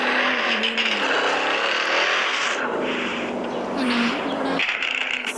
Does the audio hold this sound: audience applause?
no